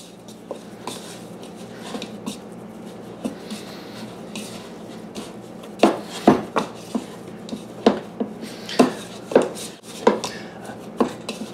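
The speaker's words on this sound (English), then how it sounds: "I'm kneading the dough." Hands knead dough for a cherry pie crust, making a run of soft, regular thumps and slaps on a work surface in the second half, with quieter handling before it.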